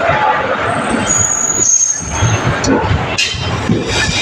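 An express train, the Chennai Egmore to Tiruchendur summer special 06155, departs Madurai Junction with a close, loud broadband rumble, a high metallic squeal, and brief dips in the noise.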